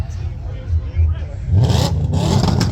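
Loud car exhausts rumble in the background at an outdoor Ford car show, a steady low engine drone that swells into a louder, rougher roar partway through, with crowd chatter mixed in.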